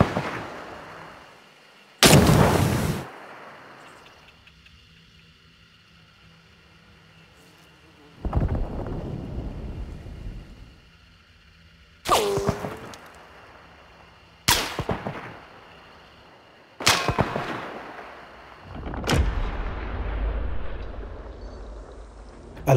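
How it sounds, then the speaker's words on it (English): Gunfire and artillery explosions ring out in the Hunt: Showdown video game as several sharp, loud booms separated by a few seconds, each trailing into long rumbling echoes that roll away over distance. "we are also adding true speed of sound and a gunshot ecosystem for a more authentic depiction of gunfire and explosions"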